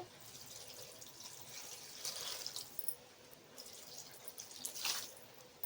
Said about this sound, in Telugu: ఇప్పుడు మనం దీనికి తగినంత వాటర్ పోసుకోవాలి